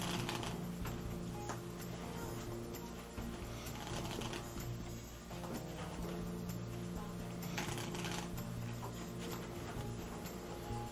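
Playing cards being riffled in a fast false shuffle, giving a continuous dense crackle of flicking card edges with occasional louder snaps, close and steady throughout.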